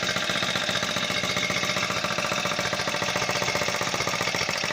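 A four-stroke engine on a foldable scooter runs at a steady, fast putter just after being pull-started, close and loud with a continuous rattly drone and no break.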